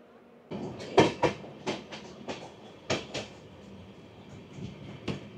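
The Sealdah–Sabroom Kanchanjungha Express passes near the Dakshineswar skywalk, giving a low rumble broken by a series of sharp wheel clacks and rattles at moderate distance, with no voices.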